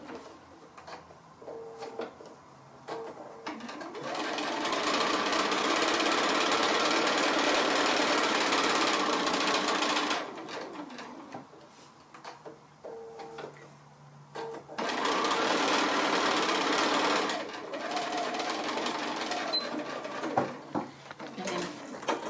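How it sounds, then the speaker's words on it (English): A sewing machine runs a regular straight stitch along a drawn line on fabric for a small sailboat pin cushion, two long steady bursts of rapid mechanical whirring separated by a short pause. "I'm just going to stitch right on that line that I've drawn"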